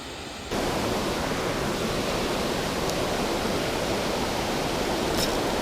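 Water pours from a lake spillway as a loud, steady broadband rush that starts abruptly after a quieter moment and holds constant.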